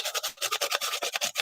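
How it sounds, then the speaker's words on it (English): A toothbrush scrubs grime off the contacts of an old motherboard's PCIe slot, CPU socket and RAM slots in quick, rhythmic rasping strokes, close and fairly loud, with no talk. "All right, let's use my toothbrush. I mean, at least the important contacts, right?"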